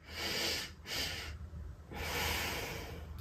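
Shallow chest breathing is demonstrated up close, with three audible airy breaths in a slow rhythm and a short pause between them, and no talking.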